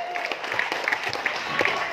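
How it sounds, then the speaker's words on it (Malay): Crowd applause for a Barisan Nasional election candidate at a campaign meet-and-greet in Tanjung Aru, a faint steady patter of many hands with talk mixed in. "Beri tepukan gemuruh pada calon kita"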